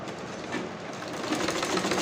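A sewing machine runs steadily while joining a sleeve to the body of a dress, a fast continuous close-up whirring rattle that builds slightly louder toward the end, with no talk.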